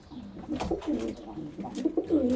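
Several birds coo and call close by, soft overlapping throaty sounds in an irregular rhythm.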